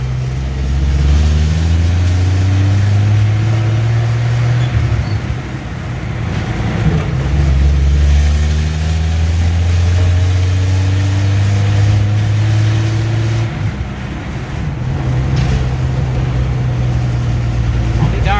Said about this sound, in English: It's idling a little high. That linkage spring's a little weak, or the linkage needs a little lubrication.